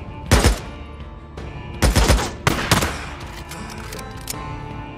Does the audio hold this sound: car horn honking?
no